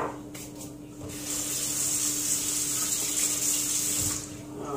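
Water runs steadily from a kitchen tap while pancake batter is being prepared, a continuous splashing rush that starts after a second and carries on for several seconds at close range with no talking.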